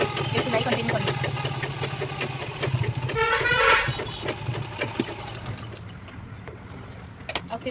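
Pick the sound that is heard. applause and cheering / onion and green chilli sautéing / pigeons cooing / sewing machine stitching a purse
sewing machine stitching a purse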